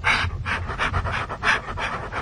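A shy dog pants rapidly and close by, a steady run of quick rhythmic breaths with no other sounds around it.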